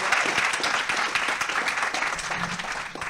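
Continuous audience applause aboard a ship at an investor summit, a dense, even wash of many hands clapping at moderate loudness for about three seconds.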